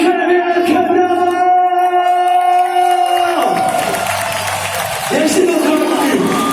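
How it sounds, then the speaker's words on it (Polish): A crowd at a gravity-sports event cheers and applauds for a rider preparing a double trick, scattered shouts and clapping beneath a loud announcer's voice, with a steady tonal hum throughout. "Wielkie, wielkie brawa!"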